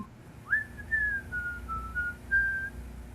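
Someone whistles a slow melody from the execution song in Disney's Robin Hood: a clear, fairly close, gliding line of several sustained notes, alone without talk.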